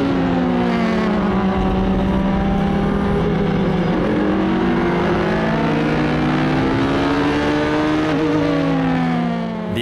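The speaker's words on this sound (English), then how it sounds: "Le Mans Prototype 2 that you see passing here" LMP2 Le Mans prototype race cars at an Asian Le Mans Series round at Fuji pass close by one after another, loud engine whines sweeping up and down in pitch over a constant roar.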